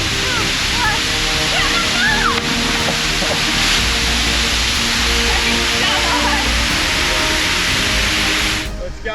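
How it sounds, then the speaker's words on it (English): A waterfall in remote Indonesia roars loud and steady, a dense unbroken rush of falling water close by. "This is one of the most beautiful waterfalls we've ever seen."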